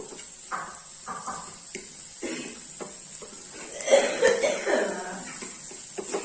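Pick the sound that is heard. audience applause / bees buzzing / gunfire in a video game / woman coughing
woman coughing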